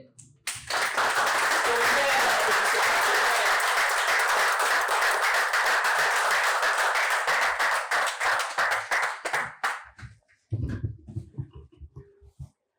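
A comedy club audience breaks into loud, sustained applause with dense rhythmic clapping for about ten seconds before tapering off, followed by a speaker's voice.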